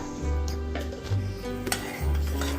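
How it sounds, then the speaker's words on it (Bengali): A spoon stirs black salt, chili powder and roasted ground spice into a mixture for dahi vada, giving steady scraping and clinking against the pot in a few close, continuous strokes with no talking. "ভালো করে এটা মিশিয়ে নিচ্ছি"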